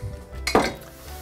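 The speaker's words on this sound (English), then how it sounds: "And give these beans a little stir." Green beans being stirred in a pot of boiling water for blanching, with a single metallic clink of a utensil against the pot over a low bubbling background.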